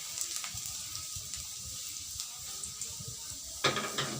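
Garlic fries in hot oil in a pan, a steady close sizzle with faint stirring scrapes and a louder hiss of added food near the end, no speech.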